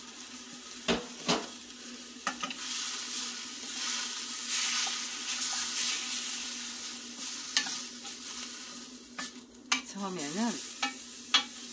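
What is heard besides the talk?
radish and chicken breast sizzling, stirred in pan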